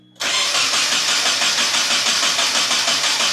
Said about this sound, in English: So time to start it, see what it sounds like.